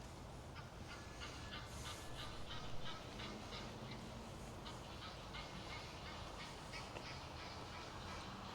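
Geese on a ranch give repeated honks over a constant noisy background. The calls are faint and distant, and the whole passage is very quiet.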